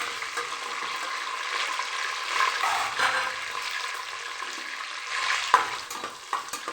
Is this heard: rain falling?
no